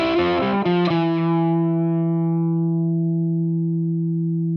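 An electric guitar lick is played through heavy distortion, a quick run of notes that ends on a long sustained chord ringing out and slowly fading, close and loud with no voice.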